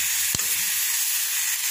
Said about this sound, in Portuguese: Ali eu tô cozinhando carne.